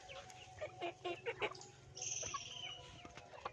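Free-ranging desi hens cluck in a short, irregular series of bursts close by, with a longer higher call around the middle and soft farmyard background throughout.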